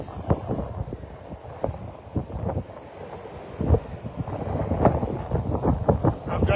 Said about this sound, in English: It's windy, so I bet you hear a lot of wind.